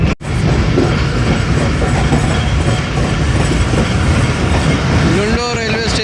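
A train running on rails in Pakistan, steady loud rumble and clickety-clack of wagons close by, with a faint squeal toward the end.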